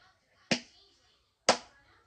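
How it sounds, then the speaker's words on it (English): Two sharp, crisp hand claps about a second apart during a children's stretching routine, close and distinct against near silence. "Hand clap."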